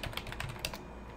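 Fingers tap quickly on a computer keyboard, a short burst of close, crisp keystrokes in uneven rhythm that stops after under a second.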